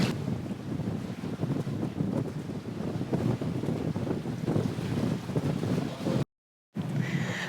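A sailboat moving under sail toward an island anchorage on the Red Sea, with strong wind buffeting the microphone over rushing water and waves, loud and constant, cut by a brief dropout.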